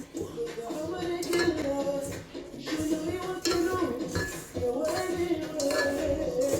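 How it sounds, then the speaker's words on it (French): Hercha dough being mixed by hand in a bowl with an oil and melted butter blend, giving soft scraping, clinking and squelching noises in irregular bursts at close range. "On met le mélange huile et beurre fondu. Hop, hop, hop, hop. Et là on va venir bien mélanger tout ça."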